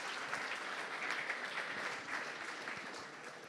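Steady, dense applause from a sizable crowd at an award ceremony, holding at an even level throughout without pauses.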